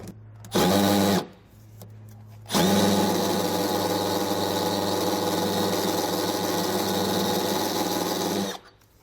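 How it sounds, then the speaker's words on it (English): A power drill with a 1/2-inch bit whirs in two bursts into a steel frame rail of a 2016 Subaru Outback: a short spin, a pause, then a longer steady grinding run that stops abruptly near the end. "We now want to grab a 1/2" drill bit and mark our hole."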